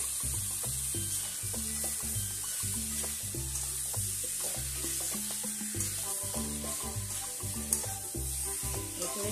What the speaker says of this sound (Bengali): এঁচুড়ের সাথে কষাতে থাকবো একটু বেশি করে